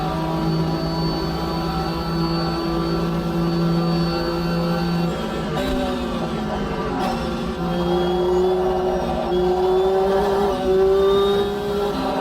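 A race car in a Le Mans racing game holds a high, steady engine drone through fast sweeping esses, pitch shifting slightly with brief lifts and gear changes, loud and continuous throughout.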